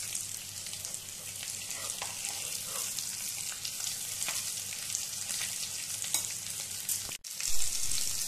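Stuffed parwal (pointed gourd) fries in a pan, making a steady close sizzle with light crackles throughout, broken near the end by a brief clatter as it is turned.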